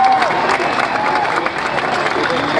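A large crowd at a political rally for a speech by Narendra Modi in Solapur breaks into loud, sustained clapping mixed with cheers and shouts, a dense roar that stays close and strong the whole time.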